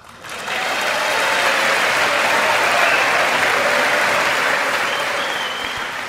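Both parties in a large chamber at a US presidential State of the Union address break into sustained, dense applause that swells quickly and holds steady for several seconds before easing slightly.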